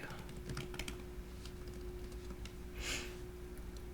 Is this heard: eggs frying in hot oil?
no